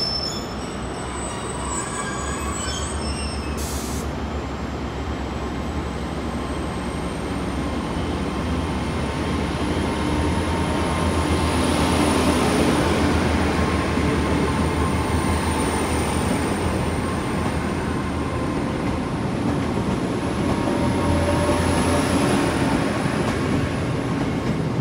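A Class 221 train departs Exeter St Davids station, a sustained loud rumble of engine and wheels with high squealing tones, building slightly as it pulls away, with no talk.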